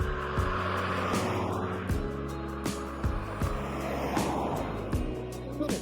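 Vehicles driving along a rural roadside in the Yorkshire Dales, a steady close engine rumble with several louder passes and bumps, heard from a stopped position.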